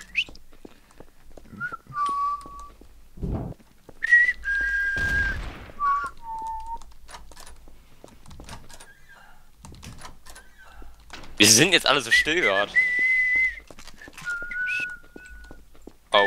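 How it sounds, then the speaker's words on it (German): Whistling carried over voice chat during a Trouble in Terrorist Town session, several short melodic phrases with pauses between, mixed with keyboard clicks, game noises and people talking. "Wenn wir den Pfeifen von irgendjemandem zuhören wollen"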